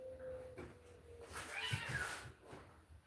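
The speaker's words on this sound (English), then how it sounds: "them cats out there fighting" Cats fighting outdoors, heard at a distance as a low, ragged yowling and scuffle building in the middle of the stretch over a faint steady background hum.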